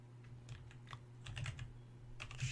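Keys clack on a computer keyboard in short uneven bursts, close and fairly quiet, over a steady low electrical hum while someone codes an Atari 2600 game.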